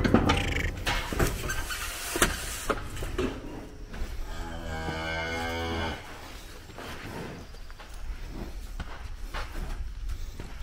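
A heifer in a cattle chute gives one drawn-out moo in the middle, with clanging and rattling of the chute and other farm noise around it.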